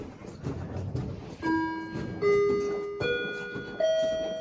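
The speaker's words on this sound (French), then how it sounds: "Ça, c'est la cloche de la dernière période." A school bell at Collège Boisbriand rings for the last period as four clear chime tones, each held and stepping upward in pitch, sounding over a soft room background.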